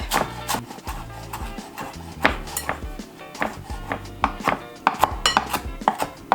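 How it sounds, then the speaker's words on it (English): A knife chops fresh cilantro on a cutting board, giving sharp, close, irregular knocks in quick bursts with short pauses between them. "And then I'm just going to chop it up"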